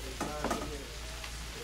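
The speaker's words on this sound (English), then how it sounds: "turn them onions and garlic, and I'm gonna make sure that it gets on some of all of these greens" Onions and garlic stirred with collard greens in a frying pan, a brief soft sizzle with a few faint scraping turns, fairly quiet and alone.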